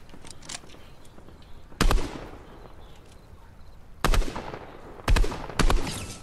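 Video game gunfire rings out as sharp, loud cracks in separated bursts, a single shot followed by a pair and then two more, over a low steady background bed.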